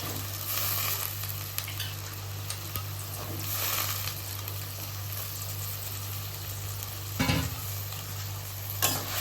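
Mixed vegetables such as brinjal, drumstick, carrot and beans sauté in a pan for sambar rice, making a continuous soft sizzle with occasional stirring clatter over a low steady hum, with no one speaking.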